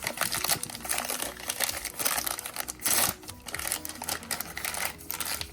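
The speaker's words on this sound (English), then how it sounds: "Let's get Glinda out" Plastic and cardboard packaging of a Wicked Glinda doll crinkling and rustling continuously up close as the doll is pulled free, a steady busy crackle with no talking.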